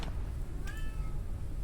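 A pet cat lying on the floor lets out a single short meow at moderate distance over a steady low background hum.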